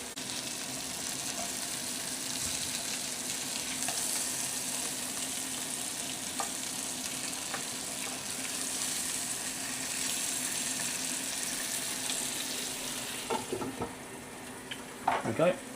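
Sausages frying in a pan, a steady even sizzle throughout, with a few light clinks and taps of tongs near the end.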